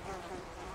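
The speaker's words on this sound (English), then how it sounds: "I you are forced to hear flies when you use this horse" Insects buzzing around a horse in the video game Red Dead Redemption: Undead Nightmare, a soft, steady fly drone that holds without break through the moment.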